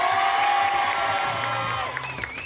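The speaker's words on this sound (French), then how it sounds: "vous devez applaudir très fort les élèves de terminale" A school audience applauds and cheers the final-year students at a Purim show, a loud sustained roar of clapping and shouting from a crowd.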